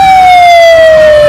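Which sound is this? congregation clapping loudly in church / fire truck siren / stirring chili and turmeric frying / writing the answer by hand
fire truck siren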